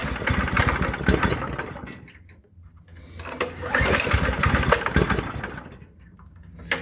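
A small engine revving unevenly while its choke is adjusted, surging loud and close in two long bursts with brief drops to a low idle between them.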